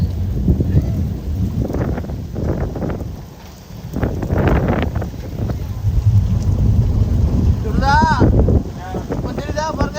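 Wind and rain storm at sea aboard a fishing boat, with a steady roar of wind buffeting the microphone and rain pattering throughout, heavy low rumbling, and someone talking over it near the end.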